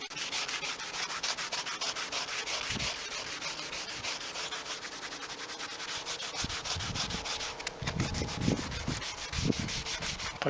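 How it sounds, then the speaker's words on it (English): Sandpaper of 80 and 180 grit rubs over rusty bodywork on a Toyota Carina E in rapid, continuous back-and-forth strokes, close and steady, with some knocking thumps toward the end. "Probably have to go a little bit heavier here where the rust is, just with probably an 80 grit, and then go over this 180."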